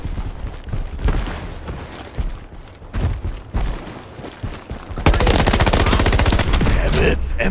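Weapon fire in the Shatterline video game starts with scattered, uneven shots and bangs, then becomes a loud, steady stream of rapid automatic fire for the last few seconds.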